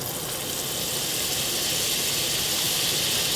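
Butter sizzling in a hot pan, a steady bright hiss that holds evenly throughout, close and fairly loud, with no talking over it.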